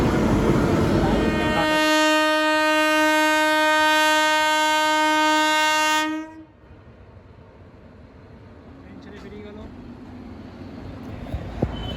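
A loud, sustained train horn blares for several seconds at the inaugural flag-off of the Purulia–Anand Vihar Express, then cuts off abruptly, leaving a quiet background with faint distant noise.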